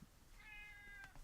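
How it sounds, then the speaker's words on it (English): A house cat meows at a door, one drawn-out, wavering cry that rises and holds before breaking off, heard close and clear over a faint electronic hum. "that's my cat meowing at my door."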